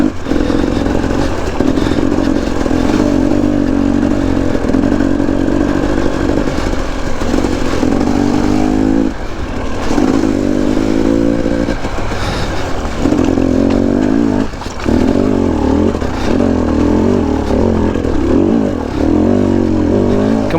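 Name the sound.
KTM 250 dirt bike engine riding a muddy trail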